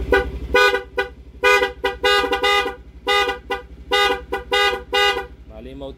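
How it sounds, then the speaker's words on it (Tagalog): A loud musical dancing horn on a Honda Beat motorcycle plays a choppy melody of short bright honks in an uneven rhythm, close and alone, with a low engine idle beneath. "12 modes po ito, dancing horn po"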